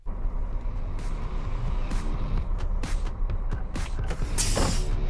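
A transport company truck rolls off a ferry ramp: a low engine rumble under repeated metallic creaks and clunks, ending in a sharp hiss like an air brake releasing.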